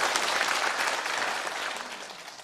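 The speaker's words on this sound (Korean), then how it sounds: "자체 한번 뜨거운 박수 부탁드리겠습니다." Audience applause at a national assembly forum in Korea on past-history reconciliation, steady dense clapping from a seated crowd that holds for the whole stretch and tapers slightly at the end.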